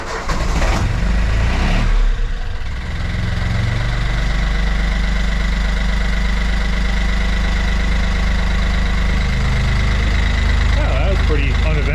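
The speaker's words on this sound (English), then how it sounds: "let's give her a crank" A Yanmar track dumper's diesel engine cranks briefly, catches and settles into a steady, loud, close idle that runs on with a low, even drone, with a voice briefly audible near the start.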